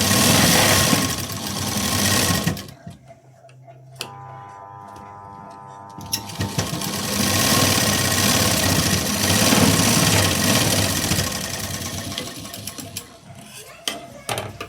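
A sewing machine stitches a blouse seam, running in a steady loud whir that drops to a quieter, humming stretch partway through before picking up again.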